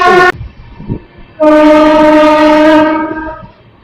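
Amrit Bharat Express sounds a loud horn, first a short blast then a long sustained one lasting over a second, with rail running noise between while overtaking a Santragachi–Purulia special train.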